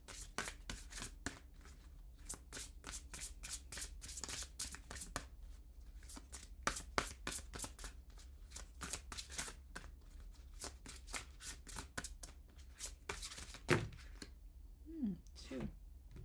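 A deck of goddess oracle cards is shuffled in a rapid run of crisp riffling flicks, pausing briefly and then resuming, close and fairly quiet, with faint voice near the end.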